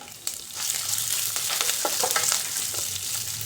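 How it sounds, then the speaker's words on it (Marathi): Green chillies and chana dal sautéing in a pan for South Indian lemon rice make a loud, continuous frying sizzle with scattered crackles and stirring scrapes, alone without talk. "हिरवी मिरची छान परतली पाहिजे म्हणजे त्याचा स्वाद भातामध्ये उतरतो"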